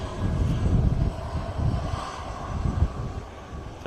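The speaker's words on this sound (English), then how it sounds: "So here we have the Emirati C-17 taxiing past us." An Emirati C-17 transport aircraft taxis past at an air show, its engines giving a steady, loud low rumble with gentle swells throughout.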